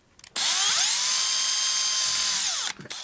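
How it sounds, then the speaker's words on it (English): A power drill bores a hole through a handmade medicine wheel sculpture, its high whine starting abruptly, holding steady for about two seconds, then winding down close to the microphone with no talk. "Okay, I drilled a hole"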